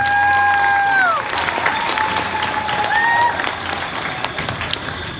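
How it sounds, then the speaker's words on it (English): A round of applause at the 2018 Odell Eagles banquet, a steady wash of many hands clapping, with a voice carrying over it briefly at the start. "give her a round of applause"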